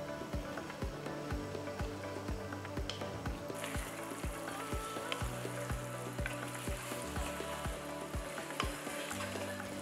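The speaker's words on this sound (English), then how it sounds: "Saute the vegetables for about 5 minutes." Marinated vegetables sauté in ghee and oil in a pot for vegetable dum biryani, giving a steady close sizzle broken by repeated stirring scrapes and clicks, with no voices.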